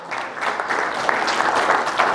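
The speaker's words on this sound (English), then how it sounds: "Give them a big round of applause." An audience at a National Grocers Association 2020 conference session applauds steadily, a dense wash of clapping that holds at an even level throughout, with no talk over it.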